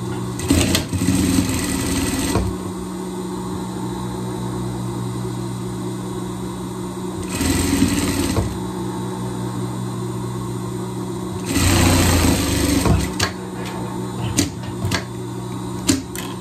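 A sewing machine stitches the underarm seam of a jacket in several loud bursts of whirring separated by quieter pauses with a steady motor hum beneath.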